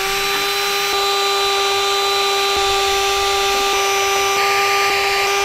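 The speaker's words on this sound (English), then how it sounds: "I'm gonna hit the spark plugs with this wire brush" A power tool fitted with a wire brush whirs steadily and loudly as it scrubs the spark plugs of an old Chevrolet truck, a continuous close tonal drone with small periodic ticks.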